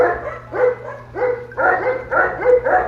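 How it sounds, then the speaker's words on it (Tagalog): A dog named John Wick barks in a rapid series of about six close, loud yapping barks in an even rhythm, with a low steady hum underneath and no talking. "Cute dog."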